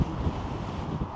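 Brief gust of wind buffeting the microphone outdoors in a new housing subdivision, a dense low rumble with steady rushing noise.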